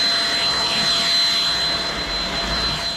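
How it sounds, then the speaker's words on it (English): A vacuum cleaner running on a home floor, a loud, steady whining roar with a constant high tone that holds throughout without pause. "That means we gotta vacuum the floor."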